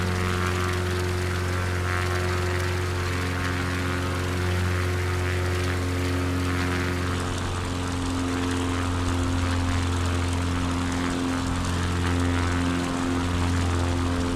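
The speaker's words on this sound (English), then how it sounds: "Engine sounds amazing as well." Propeller aircraft engine in Microsoft Flight Simulator 2024, a loud, steady droning hum with strong tonal layers, close and unbroken for the entire stretch, with no talking.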